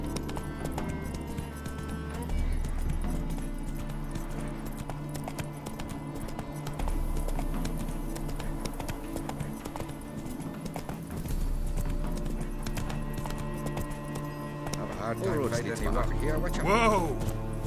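Roach, a horse in The Witcher 3, gallops with rhythmic hoof clip-clops under a continuous bed of game music and ambience, and a voice speaks briefly over it.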